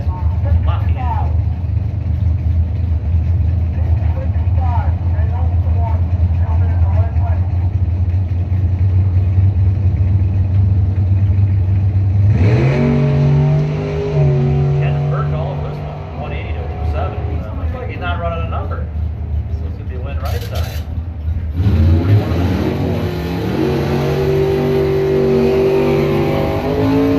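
Drag race cars at a street-night event, including a 1969 Chevrolet El Camino, rev their engines loudly with low rumbling idle and sharp rising revs, while an announcer talks over the noise throughout.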